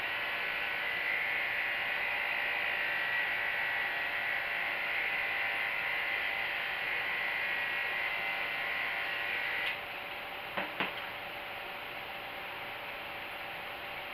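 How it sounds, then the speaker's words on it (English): Electric clippers shave a dog's leg before IV catheter placement, giving a close, steady buzzing hum that runs for about ten seconds, then switches off, followed by a couple of faint clicks and quiet. "So I'm just going to go ahead and shave up all of this area right here."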